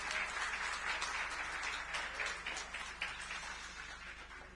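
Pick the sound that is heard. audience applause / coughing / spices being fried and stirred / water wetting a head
audience applause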